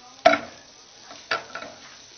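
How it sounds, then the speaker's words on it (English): Butter melting in a pan as the base of a macaroni cheese roux, giving a soft, fairly faint sizzle punctuated by a few sharp clatters of a utensil against the pan. "Sizzling away nicely."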